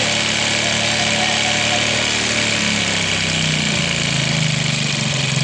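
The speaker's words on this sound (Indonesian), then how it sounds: "Terus angin-anginnya kita kirikan Sampai dapat RPM yang tertinggi." Suzuki Shogun 125 motorcycle engine running loud and close during idle adjustment, a steady rumble whose pitch shifts and rises partway through as the air screw is turned.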